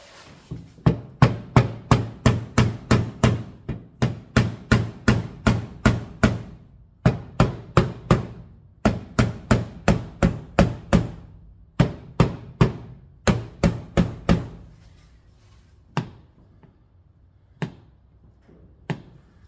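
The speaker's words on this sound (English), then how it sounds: "This is a rubber hammer, but a mallet." A rubber mallet hammers vent glass into a 1949 car in quick, steady bursts of sharp knocks, then slows to a few separate, spaced taps at the end.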